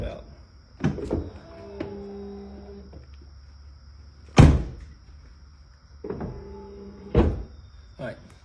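A motorized whir of Lincoln Navigator or Ford Expedition power running boards, faulty and working backwards, runs briefly after door thunks, repeating twice, with heavy slams and clunks nearby and a voice talking at times.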